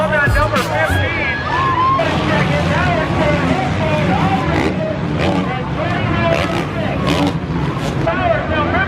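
Motocross bikes roar around a track at a first race with a number 15 Honda leading, their engines whining and revving loudly and continuously under a crowd's hubbub and an announcer's voice.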